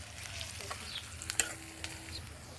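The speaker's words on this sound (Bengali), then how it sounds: "তেল গরম হয়ে গেছে, আমি এখন পেঁয়াজ মরিচ একসাথে দিয়ে দেবো।" Onions and green chillies dropped into hot oil for a spicy quail curry, giving a soft continuous sizzle with light stirring scrapes and a few small pops.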